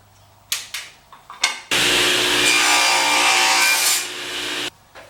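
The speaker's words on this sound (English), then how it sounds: "I gotta make a bridge blank, but it's all pretty simple table saw work." A few short knocks come first. Then a table saw cuts a wood blank for a ukulele bridge, a steady loud whine that lasts several seconds before it cuts off abruptly.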